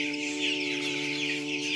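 Sixteen-day-old Tiger breed chicks on a Sylhet poultry farm make a continuous chorus of peeping and clucking, heard close over a steady tonal hum.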